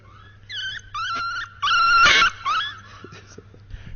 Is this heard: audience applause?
no